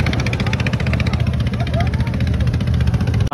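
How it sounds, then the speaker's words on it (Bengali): A boat engine drones steadily on a river boat trip at Chinabad, Sirajganj, with a loud, continuous low mechanical hum throughout and no break in the running noise. "আমরা নৌকা ভ্রমণ করছি, পাশে আর একটা নৌকা।"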